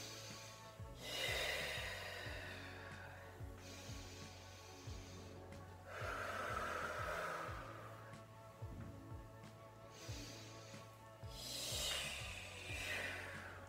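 Rhythmic breaths during an abdominal exercise routine, with three strong exhalations at a steady pace over a faint background of low music.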